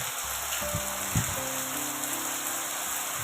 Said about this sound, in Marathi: ह्या पावसाने मातीचा अगदी छान असा सुगंध सुटलेला आहे